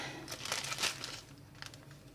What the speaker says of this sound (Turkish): Şimdi ben hemen poşetimi açayım ve başlayayım.